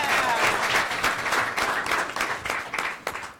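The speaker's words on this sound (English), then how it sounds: "Can we get a round of applause for our entrepreneurs?" A room full of people applauds the entrepreneurs at the start of a pitch competition, producing sustained, busy clapping that rises and then tapers off slightly toward the end.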